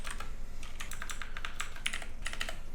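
Keys clatter on a computer keyboard in quick, irregular bursts of clicks, close and fairly quiet, with no voices.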